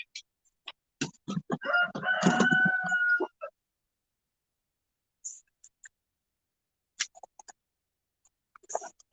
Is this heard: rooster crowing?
yes